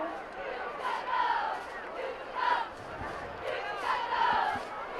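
A homecoming crowd at a high school football game cheers in the stands, a broad roar that rises and falls in waves, with a commentator talking over it.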